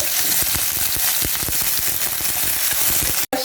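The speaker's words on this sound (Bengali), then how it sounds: "পেঁয়াজটা একটু লাল করে ভাজা হয়ে গেল" Chopped onion and slit green chillies frying in hot oil, a close, steady sizzle with stirring scrapes, cut off briefly at the very end.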